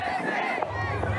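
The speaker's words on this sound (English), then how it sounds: "This is, of course, the crowds that were lined up just waiting to watch Donald Trump pass on his way to McDonald's." A crowd lined up waiting for Donald Trump to pass on his way to McDonald's, a steady roar of voices and cheering heard at a distance in a brief burst.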